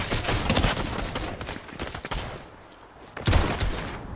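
Gunfire in the Fortnite video game, dense bursts of rapid shots crackling through most of the moment, a brief lull, then another loud volley near the end.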